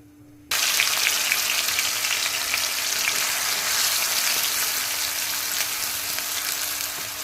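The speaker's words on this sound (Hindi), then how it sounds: "चलाते हुए भून लेते हैं।" Ground onion and chilli paste frying in a pan, a loud dense sizzle that bursts in suddenly after a moment of near silence and then crackles on steadily while being stirred.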